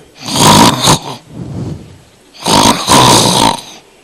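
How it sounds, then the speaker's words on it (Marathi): A man snoring heavily while asleep sitting up, two long rasping snores with a softer breath between them, loud and close with no other sound. "बाबा तर चक्क घोरत होते."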